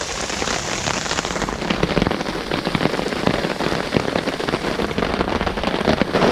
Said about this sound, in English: by then hopefully this rain would have stopped.